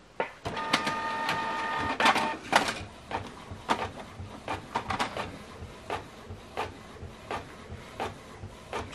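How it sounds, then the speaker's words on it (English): A Canon printer runs through a document with a whirring feed at first, then a series of sharp clicks and clacks. The mechanism sounds close and fairly quiet. "So the document is printing."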